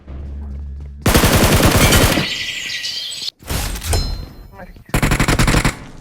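Rapid automatic gunfire from the battle royale game BGMI, heavy bursts repeating in sharp close volleys with short gaps between them, while a voice speaks briefly during the fighting.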